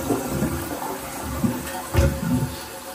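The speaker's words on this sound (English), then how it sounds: "So what this may just do is refill the bowl with water." A toilet flushes and its bowl refills, giving a close, gurgling rush of water with a couple of louder surges as it drains and fills.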